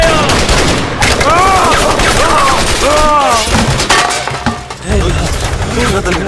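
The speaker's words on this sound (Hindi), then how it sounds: "ये गोली की आवाज।" Loud, dense bursts of gunfire fired at a target, rapid overlapping shots with shouting voices mixed in throughout.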